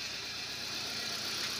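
A car engine idling steadily at close range, with a broadband running hum and a faint uneven ticking that points to a slight misfire; no one speaks over it.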